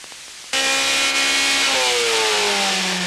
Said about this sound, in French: ce rugissement, c'est le chant de la toute nouvelle mécanique qui équipera la Xara Kitcar